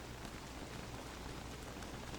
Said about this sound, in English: This rain is just terrible.